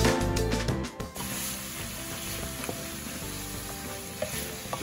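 Garlic and pork fat sizzling in a pan, a steady close frying hiss with light scraping and stirring clatter near the start, continuing alone without talk.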